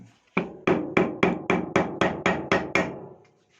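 Nine evenly spaced, solid thuds from a broken rubber mallet striking during disassembly of a GY6 139QMB scooter engine, a steady rhythm of dull blows close by, with no voices.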